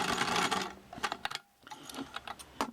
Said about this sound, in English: I'm going to sew a 1/2 inch seam now, or excuse me, 5/8